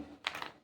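A short, dry crunch as a homemade wheat biscuit snaps, two quick crackly bursts close by and fairly quiet, with no talking.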